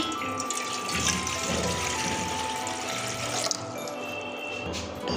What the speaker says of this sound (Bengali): এখানে আমি জলটা দিয়ে দিচ্ছি